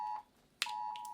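A phone emergency alert notification sounds as two short electronic tones, a steady beep that stops, then a sharp click and a second sustained tone, close and clear with no talking.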